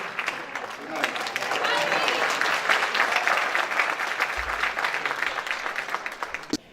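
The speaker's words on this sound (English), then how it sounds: "So give them a great round of applause again for all that they do." An audience at a Haitian Heritage Month celebration in Miramar, Florida gives a sustained round of applause, a dense, even clapping that swells and then fades toward the end.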